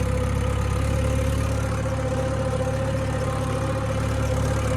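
A farm tractor engine runs steadily up close, a continuous low throbbing drone with a constant mid-pitched hum and no voices.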